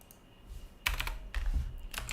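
Fingers tap on a computer keyboard in quick bursts of clicks separated by short pauses, close and clear, with no talking.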